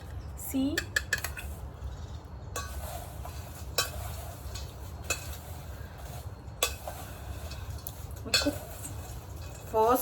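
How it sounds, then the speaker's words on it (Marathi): A spoon mixes ingredients in a bowl, giving scattered, irregular clinks and scrapes of metal against the dish over a low, muffled room background. "चमचा. आता हे आधी मिक्स करून घ्या नीट."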